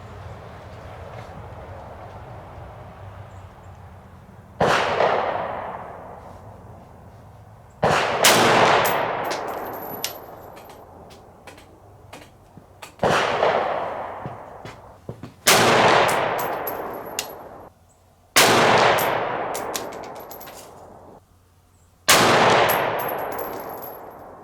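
Six loud, sharp 6.5 Grendel rifle shots fired through a muzzle brake inside a building, evenly spaced a few seconds apart, each with a booming indoor echo that fades before the next.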